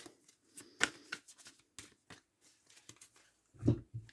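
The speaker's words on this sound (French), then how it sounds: "Allez, on va tirer les cartes" Tarot cards shuffled by hand in a quiet room, giving soft papery riffles and taps spread across a few seconds, ending with a louder thud as the deck is set down.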